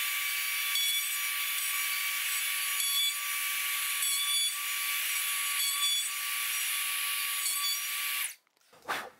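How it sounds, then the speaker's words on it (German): A plunge router mills dovetail joints in wood, guided by a jig, making a loud, steady high-pitched whine with a rhythmic series of cutting passes, then winding down abruptly near the end. "wir fräsen das jetzt das dritte Mal nach"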